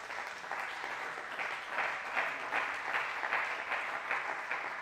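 Church congregation at a night worship service clapping and cheering in praise, a steady, fairly distant wash of applause with rhythmic swells throughout.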